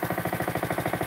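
A lawn equipment engine, started with a single pull of the cord, runs with a steady, fast, rough chugging pulse, close and loud throughout.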